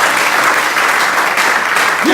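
Church congregation applauding the Lord during a French-language service, a dense, steady wash of clapping that fills the whole moment without pause.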